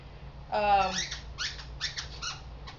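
A beagle puppy gives a series of high, thin squeaks and whimpers close by, a drawn-out cry followed by several shorter yelps.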